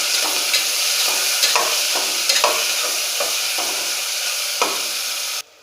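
Onions and tomatoes frying in a pan with a constant sizzle, while a spoon scrapes and stirs in several distinct strokes; close and steady, with no talking, stopping abruptly at the end.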